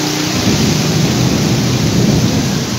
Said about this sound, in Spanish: Acabo de decir eso y está tronando